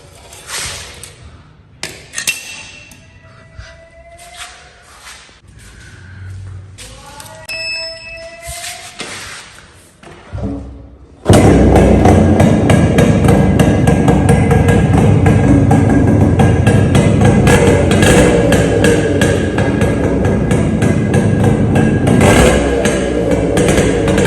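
A Yamaha RX135 motorcycle with its muffler removed starts after about eleven seconds of quieter handling sounds, then idles loud and raw with a harsh, continuous two-stroke rasp close by.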